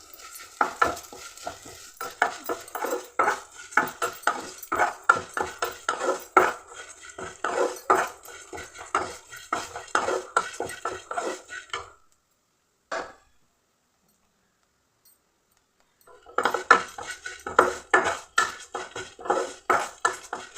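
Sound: flattened rice (aval) roasting in ghee in a pan

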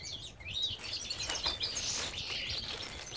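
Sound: house sparrows singing

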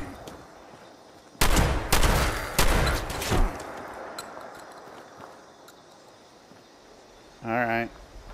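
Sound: shotgun firing in Fallout 76 video game

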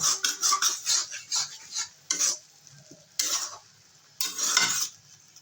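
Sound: stirring and reducing a simmering sauce on low gas flame

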